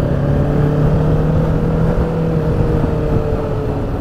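A Kawasaki Ninja motorcycle engine runs steadily and loudly up close, its revs holding a sustained drone with a rising tonal whine and no talking over it.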